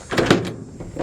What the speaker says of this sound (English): Doors open and close well.